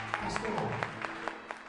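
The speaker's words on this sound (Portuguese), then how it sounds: "Vamos aplaudir Jesus." A church congregation applauds during a worship service, a steady wash of clapping with sharper individual claps standing out, heard under a continuous low background tone.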